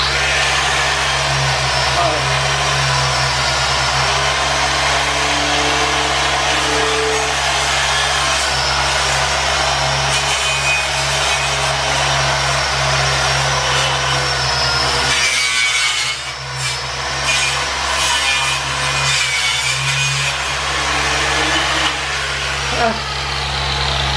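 Angle grinder spinning a knotted wire brush wheel against metal, a loud, steady motor whine with a continuous harsh scraping hiss that dips briefly partway through before resuming.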